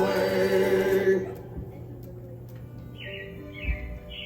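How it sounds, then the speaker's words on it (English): Animatronic robins in Disney's Carousel of Progress show let out a few short, bright chirps near the end, after music fades out into a quiet room hum. "It looks like the Robins are getting ready to celebrate Valentine's Day today."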